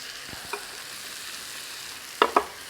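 Soup mixture with peppers and onions is stirred for a chicken casserole, faint scraping and clinks with two sharper utensil knocks near the end over a quiet kitchen background.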